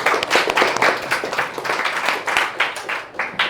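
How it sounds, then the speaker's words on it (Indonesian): A class, 11 TKJ 1, applauds in a classroom: loud, close, continuous clapping from many hands with a busy, slightly uneven rhythm throughout, and no speech. "Sebelumnya tepuk tangan dulu untuk 11 TKJ 1."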